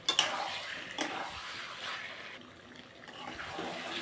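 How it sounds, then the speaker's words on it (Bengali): Pointed gourd and potatoes being sautéed with salt in a pan: soft sizzling under intermittent spatula scrapes and stirring clatter, fairly quiet and close, with a brief clink at the start. "তো লবণ দিয়ে আবার আমি সুন্দর করে কষিয়ে নেব"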